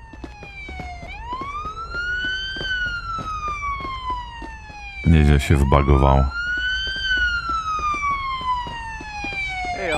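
A wailing ambulance siren from the video game Police Simulator: Patrol Officers sweeps up and down in long, loud cycles, briefly interrupted by a burst of rumbling noise midway, while someone talks casually over it.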